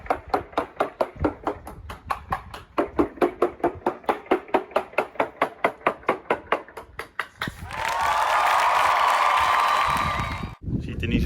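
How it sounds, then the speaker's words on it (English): Knocks on an aluminum sailboat hull during a pre-purchase survey: a long, fast, regular series of sharp raps for about seven seconds, followed by a sustained broadband noise like wind or a grinder. "The hull they measured and checked it by knocking on it."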